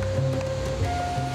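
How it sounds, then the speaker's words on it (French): Rushing waterfall cascade seen from below, a steady broadband roar of falling water filling the clip with no speech. "En contrebas, la cascade est encore plus impressionnante."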